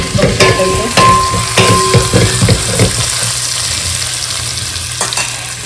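Ground spices, including coriander powder, stirred and fried in a pan for prawn biryani: steady close sizzling with a few scraping strokes early on, settling into a continuous fry with no talk.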